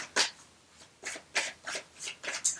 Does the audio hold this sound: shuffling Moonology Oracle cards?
yes